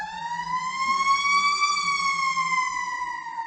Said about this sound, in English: That's why you hear a fire engine now and then.